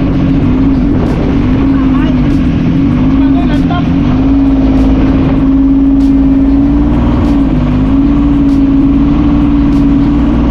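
A motorcycle engine running steadily and loudly close by on a mountain route, a constant droning hum that holds for the whole stretch with slight pitch wavers.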